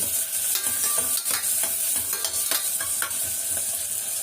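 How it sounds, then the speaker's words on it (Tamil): Coriander and curry leaves sauté in a hot pan with a dense, steady sizzle and quick, repeated stirring scrapes throughout, with no voices. "பாருங்க எப்படி வதங்குது பாருங்க. நல்லா வதங்குதுங்களா."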